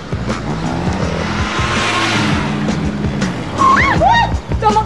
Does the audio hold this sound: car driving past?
yes